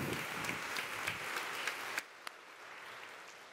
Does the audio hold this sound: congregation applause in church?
yes